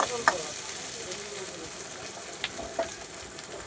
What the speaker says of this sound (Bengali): ভাজা ভাজা করে নেবো আগে